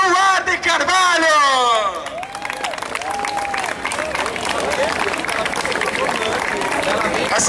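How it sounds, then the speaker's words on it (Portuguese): Audience applause for a poet at a live arts event, steady crowd clapping with shouts and cheers, while a voice rings out over the clapping at the start. "quero uma salva de palmas pro incrível, pro poeta, o senhor Luan de Carvalho!"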